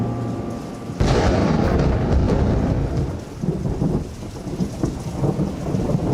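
Rain pouring steadily with a loud rumbling thunderclap breaking in after a moment, the downpour continuing dense and close around it, no voices.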